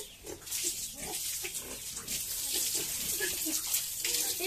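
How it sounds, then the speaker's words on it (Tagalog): Pigs on a rural Filipino family farm fighting and biting, with grunts and squeals mixed into the sound of running water and washing, steady and close throughout. "Mga kapatid, nagkagagat yung mga baboy."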